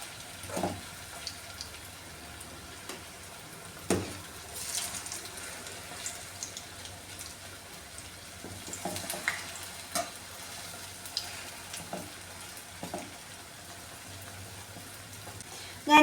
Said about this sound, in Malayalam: ഇനി ഇത് എണ്ണയിലിട്ട് ഒന്ന് പൊരിച്ചെടുക്കാമേ